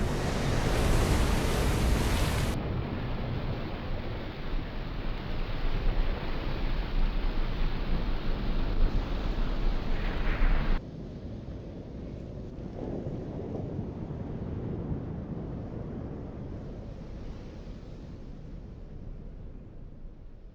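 Sea waves crash and roar as the Red Sea closes, a loud, dense surge of water that rolls on for about ten seconds, then eases into a softer, steady wash without a break.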